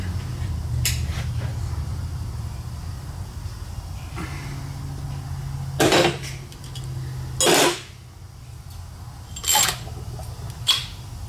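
An XR650R fork cap is tightened down on the fork during a rebuild. Four or five separate, sharp metallic clanks are spaced out over a steady low workshop hum, with no one speaking.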